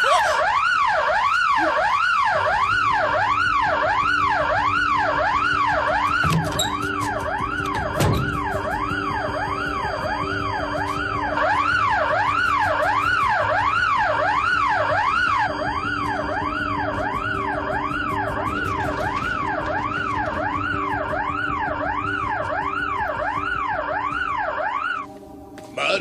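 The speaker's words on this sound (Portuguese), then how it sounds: "Acho que correram quando o alarme disparou." Car alarm going off, a loud cycling electronic whoop rising and falling in a regular pattern over and over, sustained for the full length with a brief thump partway through.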